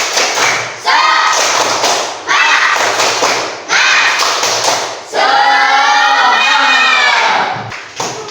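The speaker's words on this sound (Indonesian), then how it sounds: "1, 2, 3, tepuk semangat" A classroom of students performs a rhythmic spirit clap in Indonesia, several loud bursts of group clapping in quick patterned sets with brief pauses, mixed with children's voices and cheering.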